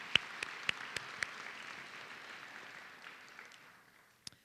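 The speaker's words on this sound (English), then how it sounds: "I think that you all should get a round of applause as well" Audience applause at a senior scholar athlete recognition ceremony: a moderate, steady patter of clapping from a crowd, with a few sharper individual claps standing out, fading toward the end with one last clap.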